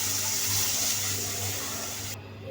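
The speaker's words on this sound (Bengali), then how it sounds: "মেশানো হয়ে গেছে, এখন দিয়ে দিব কষানোর জন্য পানি।" Water is poured into a pan of garlic and turmeric powder for a taro-stolon and tilapia curry, giving a steady rushing pour for about two seconds before it cuts off.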